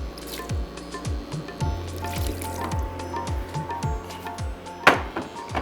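Water splashes and drips into jhangora millet cooking with spices in a pot, a close series of repeated wet squelching plops with a louder splash near the end.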